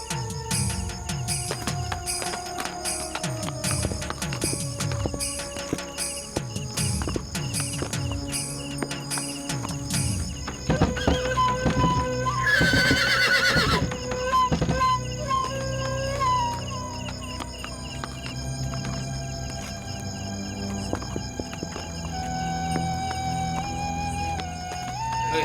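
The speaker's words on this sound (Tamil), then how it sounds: "வந்திருக்கியா? சாமி குதிரை சார்." A temple horse calls out with neighing amid clopping hooves, the sounds busy and layered with a dense stretch of noise in the middle, no talking.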